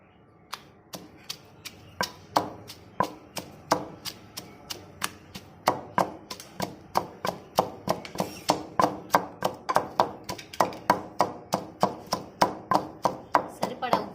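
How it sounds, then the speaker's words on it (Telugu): Green chillies are pounded in a stone mortar, sharp, hard knocks repeating close and loud, slow and spaced at first, then faster and steadier. "వీటిని ముందు బాగా దంచుకోవాలి."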